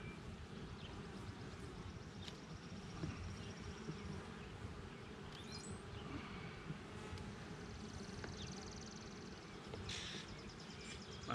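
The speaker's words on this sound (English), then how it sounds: "there's a ton of bees in here" Dense, steady buzzing of many black honey bees swarming inside an open hive during an inspection, a continuous close drone with no one talking.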